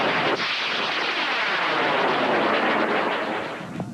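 A homemade amateur rocket lifts off with a sharp crack, followed by a loud, sustained roaring hiss that holds steady and then eases slightly as it climbs.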